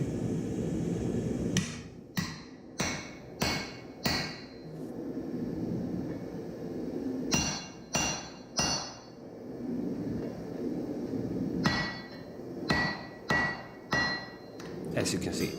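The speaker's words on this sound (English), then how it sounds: "you can just hit the hammer part of the axe and it should come out pretty easy" Sharp metallic hammer strikes on the poll of a forged Damascus axe head, knocking out a forging drift; clusters of three to four ringing blows separated by pauses over a low background hum.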